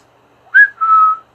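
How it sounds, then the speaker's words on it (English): A person whistles two short notes, the first rising and brief, the second longer and steady, close and loud in otherwise quiet surroundings. "I don't want any whistling on my video"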